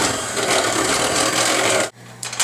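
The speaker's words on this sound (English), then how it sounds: "And we are going to whisk this." Ingredients whisked in a bowl for a fettuccine Alfredo-style broccoli rabe dish: a fast, continuous scraping and rasping for about two seconds, close and loud, ending abruptly.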